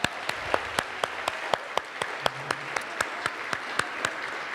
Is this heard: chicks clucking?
no